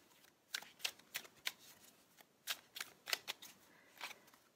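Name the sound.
shuffling a deck of tarot cards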